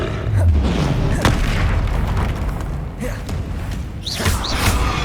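Spell blasts in the Hogwarts Legacy video game, heavy booming impacts and pops rolling over a low rumble, with a few sharper cracks and whooshing bursts toward the end.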